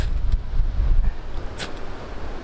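Wind gusting outdoors while a ferro rod fire is being lit, a low rumbling buffeting against the microphone that is strongest early on and then settles into a steady, softer blow.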